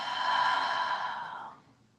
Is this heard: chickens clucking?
no